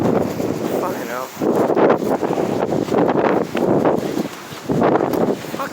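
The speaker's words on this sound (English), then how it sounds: "We can't like fucking deal with this wind." Strong outdoor wind buffets the microphone in a steady, rumbling roar with gusty swells throughout, and a voice talks underneath it.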